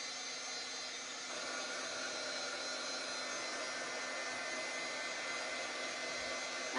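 An embossing heat tool blows hot air in a steady, even whoosh that holds unbroken from start to finish at moderate loudness, used while making a wooden porch sign, with no one speaking.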